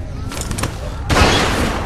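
A single loud gunshot blast from The Walking Dead: 400 Days, a sharp crack with a broad noisy tail, preceded by a brief stretch of shouted voices.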